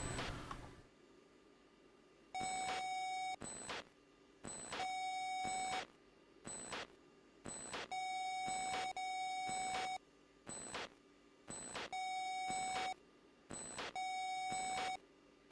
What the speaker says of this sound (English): A lot of beeping, a lot of booping going on.